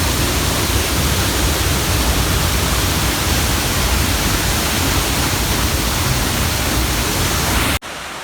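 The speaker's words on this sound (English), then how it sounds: "This is Board Tree Falls." Board Tree Falls roars as a loud, dense, unbroken rush of falling water heard up close in the mist, steady throughout before cutting to a quieter wash at the very end.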